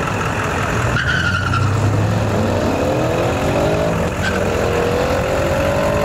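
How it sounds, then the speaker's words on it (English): A supercharged Dodge Viper rated around 800 horsepower runs hard on a race track day, its engine note sweeping up and down continuously and loudly with a tyre-squeal edge, no voices over it. "My boy with a supercharged Viper, 650 wheel horsepower."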